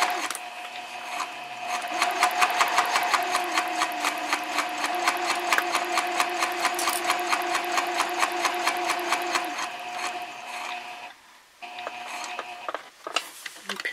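A sewing machine runs a long basting seam at 3.5 stitch length, 1/8 inch from the edge, while sewing a messenger bag. It makes a steady, close, rapid rhythmic clatter for about ten seconds, then stops briefly and makes a few short bursts.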